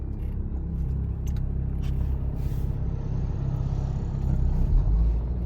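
A car on a driving exam route enters a roundabout, its engine and road noise rumbling steadily from inside the cabin, with a few faint clicks and no talk.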